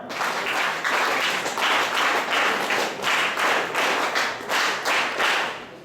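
A ceremony audience claps steadily for several seconds, a loud dense patter of many hands that swells and eases in waves.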